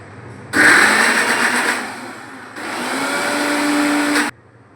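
A mixer grinder blends pumpkin into paste in two loud, close bursts of high whirring, the first about two seconds long, then a short pause, then a second steadier run that cuts off abruptly.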